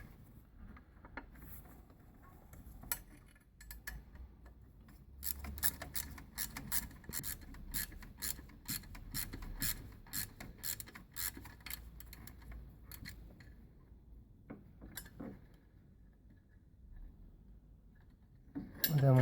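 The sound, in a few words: undoing a 10mm nut on a Ford diesel fuel filter housing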